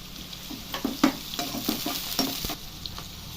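Two medium onions, chopped, fry in hot oil for chicken curry: a soft continuous sizzle broken by scattered crackles and stirring knocks, close and fairly quiet, with no talking.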